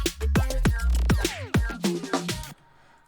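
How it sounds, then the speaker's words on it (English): Kung fu style whip and swoosh samples placed in an electronic music beat, a quick series of sharp cracking whooshes with descending sweeps over a bass groove, loud and close, ending in near silence. "They're just like whips and stuff."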